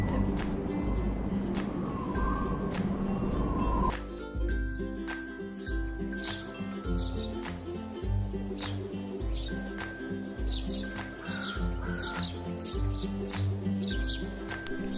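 Small birds chirp and tweet intermittently in a children's cartoon over soft background music, with a low steady drone underneath.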